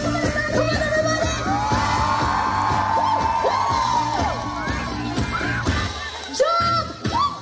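Festival crowd at an outdoor fiesta screaming, whooping and shouting in sustained loud waves over amplified music, with a few sharper yells near the end.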